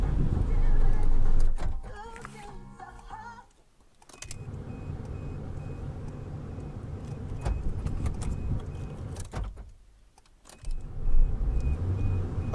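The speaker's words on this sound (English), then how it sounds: "we're gonna have to actually get the car in motion because I didn't want to turn off" Car engine running while the car gets moving after recent engine trouble, with a steady low motor rumble and road noise, mechanical clicks and window-motor whirs early on, and brief dips in level.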